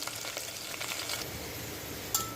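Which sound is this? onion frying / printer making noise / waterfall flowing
onion frying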